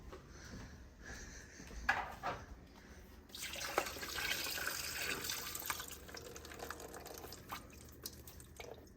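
Water drains from a pot of cooked green beans into a sink, a fairly faint splashing pour that swells in the middle and trails off into drips and small clatters of the pot, with no talking.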